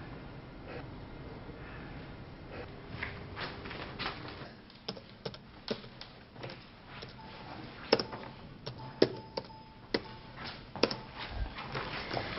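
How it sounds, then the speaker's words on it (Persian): Typing on an office computer keyboard, a run of soft key taps building into sharper, louder clicks in irregular bursts against a quiet room background. "بعد حکمشو تایپ کن"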